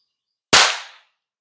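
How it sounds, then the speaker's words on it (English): A single loud, close bang from a water-resistant percussion cap fired after being dunked in water, a sharp crack that decays over about half a second. "That one blew the cap apart."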